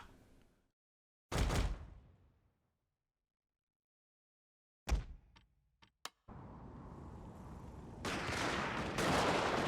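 Musket volleys crack out in a Total War: Shogun 2 Fall of the Samurai battle: a few loud, isolated bursts separated by silence, then a sustained, rumbling wash of battle noise.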